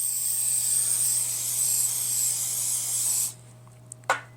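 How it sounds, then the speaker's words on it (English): A steady loud hiss of an aerosol spray for about three seconds, then it cuts off, followed by a couple of small clicks. "oh, I'm spraying my phone."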